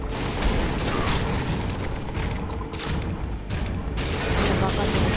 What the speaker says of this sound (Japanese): うわ、爆発しました。